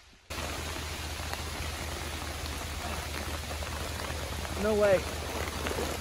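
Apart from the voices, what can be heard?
rain falling outdoors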